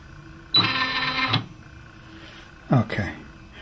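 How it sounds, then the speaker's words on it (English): A Brother PE770 embroidery machine carriage moves in two short mechanical bursts, a whirring buzz lasting under a second, a pause, then a briefer second movement, heard up close in a quiet room. "Carriage will move."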